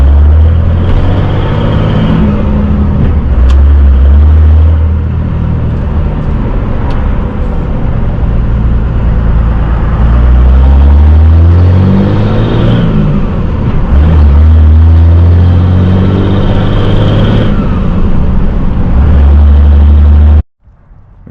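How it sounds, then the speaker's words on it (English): A truck engine on a towed fifth-wheel setup runs loudly and close, with a deep, throbbing idle that rises and falls in slow, repeating surges before cutting off abruptly at the end. "Listen to this thing start. It idles at like 1200 now."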